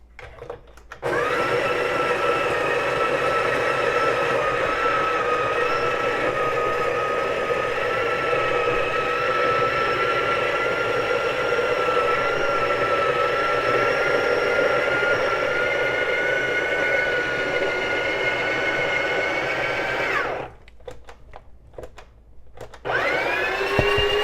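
Breville Barista Pro espresso machine grinding coffee beans at grind setting 7, a loud steady whirring drone that runs for about twenty seconds and then cuts out, leaving a short pause before a brief restart.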